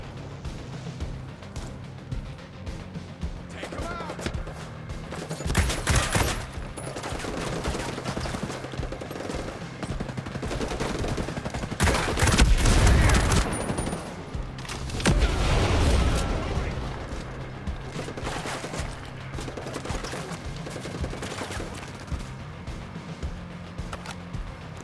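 Gunfire against a turret in the Xbox game Ghost Recon Breakpoint: rapid automatic bursts and heavy booming shots build to several loud clusters over a low background drone, repeated across the stretch.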